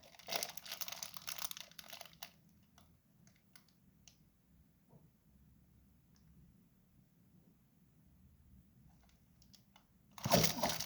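A bite into food and crunchy chewing, with a loud burst of crunching in the opening seconds and another sharp crunch near the end, separated by a long quiet stretch.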